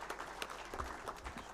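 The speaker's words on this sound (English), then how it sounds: "join me in appreciating Dr. Donald Kaberuka with another round of applause" Quiet, scattered clapping from an audience honoring Dr. Donald Kaberuka at a memorial lecture, a thin patter of hands heard at a distance and fairly faint.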